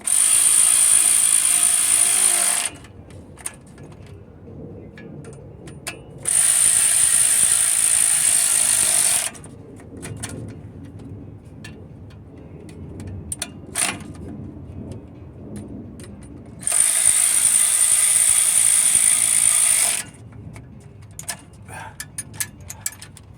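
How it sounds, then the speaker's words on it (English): A hand ratchet works bolts on a Mercedes diesel van during a floor-level clutch job, with quick clicking bursts between three long, loud high-pitched mechanical whirs, close-up in a workshop. "This ratchet tightens up to about 70 pounds of torque"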